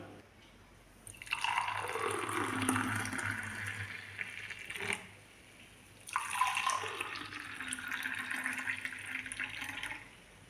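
Liquid pours and splashes steadily in two long bursts with a brief pause between, as pearl millet milk is strained through a filter into a container nearby.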